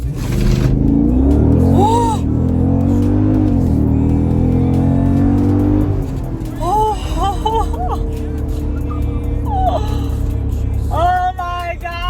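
A 2018 Jeep Grand Cherokee SRT with a cold air intake drives hard, its engine a loud, continuous deep roar that revs and shifts, with a person exclaiming over it throughout.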